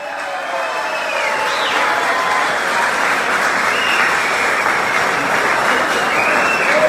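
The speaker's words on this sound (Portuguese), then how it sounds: "Chico Fraga, recebendo os aplausos de vocês" A stage event audience at a football club's consular gathering breaks into sustained, loud applause that builds and holds steady with crowd cheering mixed in.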